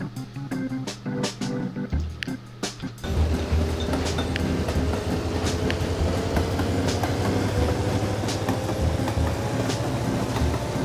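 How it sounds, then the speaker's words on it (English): Train in the video game Mashinky rolling along the track, a loud continuous rumble with repeated clickety-clack wheel beats and a faint rising tone, preceded by a few seconds of rhythmic mechanical clunks, with no talking. "let's take a look at this new train"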